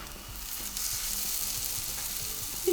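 Frikadellen and onions fry in a pan with a steady, close sizzle and crackle, with faint stirring and no voices.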